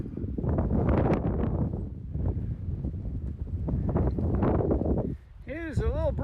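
Strong wind on a Prairie Mountain hike buffets the microphone in a heavy, continuous low roar that dips briefly before a short voice is heard near the end.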